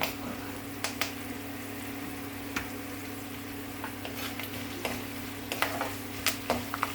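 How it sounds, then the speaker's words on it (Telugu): Spices tempering in hot oil with asafoetida for a prawn and ridge gourd curry, a steady close sizzle with scattered sharp crackles and pops throughout, no talking. "తాలింపు అంతా వేగాక రైలు వేసుకుని ఒక్కసారి వేసుకుంటాం"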